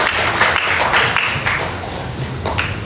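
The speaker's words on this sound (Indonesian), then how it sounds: "Boleh berikan tepuk tangan sekali lagi untuk anak-anak berprestasi pada sore hari ini." Applause for high-achieving children at an evening gathering in the Bagong bus garage in Malang, a steady wash of clapping running through the clip with a few sharper claps on top.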